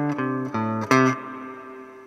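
Electric guitar playing the closing tag of a song: a few clean, sustained chords struck in quick succession, the last ringing out and fading, played alone at moderate volume.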